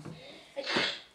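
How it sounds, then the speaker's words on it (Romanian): A single short sneeze, a quick breathy intake followed by a bright burst of air, close and moderately loud, after a brief murmur of voice. "am strănutat"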